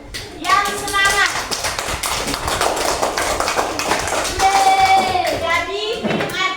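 Children in an Indonesian classroom clap their hands together, a busy run of quick claps mixed with excited young voices calling out over it.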